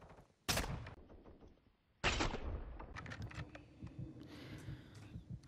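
Two sharp, loud sniper rifle shots ring out in a video game, roughly one and a half seconds apart, each followed by a short echoing tail and faint clicking sounds.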